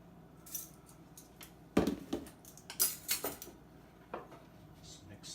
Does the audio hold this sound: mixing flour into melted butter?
yes